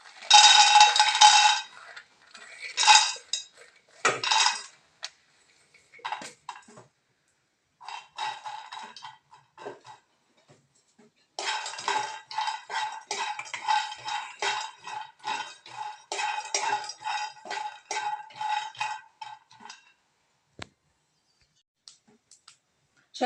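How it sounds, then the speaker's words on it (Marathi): Peanuts are dry-roasted in a pan, their shells and kernels rattling and clicking in bursts as they are stirred, close and fairly loud, with pauses and quieter scraping between, and no voices. "याच्यानंतर आपण शेंगदाणे भाजून घेऊ."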